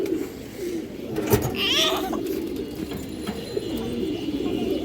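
Pigeons coo in low, soft bursts against a room background, with a brief fluttering chirp near the start and a faint voice in the background.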